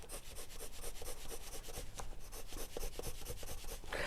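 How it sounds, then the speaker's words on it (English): Steady scratchy rubbing of a colored pencil on paper, continuous back-and-forth strokes, close and fairly quiet, with no talking. "I love the sound of a pencil on a paper."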